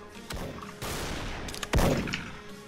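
Rapid gunfire from a PSG-1 sniper rifle and other weapons in the online shooter Special Force (SF), with several sharp bursts and a loud close shot near the end, alone with no talk.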